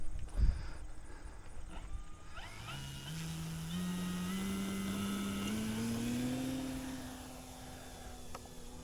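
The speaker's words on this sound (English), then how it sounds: "we're gonna take up the Turbo Timber SWS" An E-flite Turbo Timber SWS RC airplane takes off, its electric motor rising from a low whine into a loud, steady buzz that climbs in pitch as the plane speeds up, then eases off as it pulls away.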